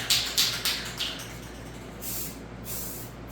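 Short bursts of a spray gun coat Honda ATC250R restoration parts, several quick hissing puffs followed by two longer sprays, close and fairly quiet with no talk.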